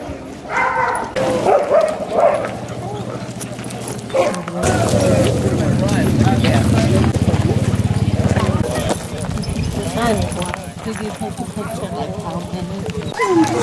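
Dogs bark and yip amid a noisy outdoor scene in Alaska, with steady rumbling and people talking throughout.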